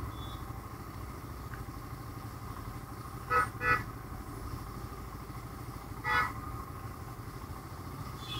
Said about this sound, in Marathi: ट्रॅफिक जाम आहे.